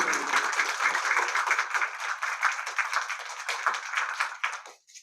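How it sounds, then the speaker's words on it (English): Conference attendees give a round of applause for volunteers from an education foundation, dense steady clapping that carries on for several seconds before quickly tapering off at the end. "So if I could just get a round of applause for all of"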